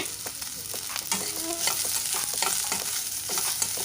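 Sliced cabbage with ginger garlic paste frying and being stirred over a very high flame, a steady loud sizzle with repeated scraping stir strokes and clatter throughout.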